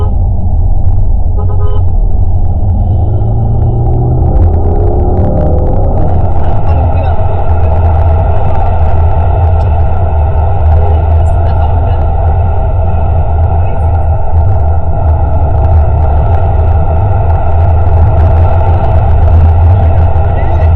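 Inside a Mercedes-Benz GLC 43, a deep, loud engine rumble hums steadily and continuously throughout the drive.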